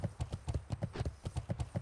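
A Paladin's horse trots in World of Warcraft, its hooves striking in a quick, even clip-clop rhythm, close and clear, about a dozen beats with nothing else over them.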